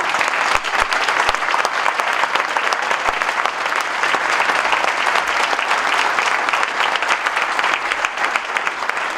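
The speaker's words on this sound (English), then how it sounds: "let's give them a huge round of applause" A large audience at a junior golf tour awards ceremony gives a long, sustained round of applause. The dense clapping stays even and loud throughout, with a few sharper claps standing out close by.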